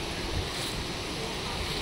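Water running by natural gravity through stone channels at Achbal Garden in Kashmir, with no pump or motor, makes a steady, close, broadband rushing that does not let up.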